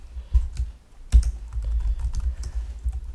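Rapid keystrokes on a computer keyboard during a coding session, a close, irregular burst of clicky taps with brief pauses, no voice over it.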